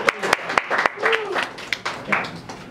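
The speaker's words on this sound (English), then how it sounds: "clap for color guard" Scattered clapping from a small high school class for the color guard, irregular and fairly close, with a voice briefly heard among the claps.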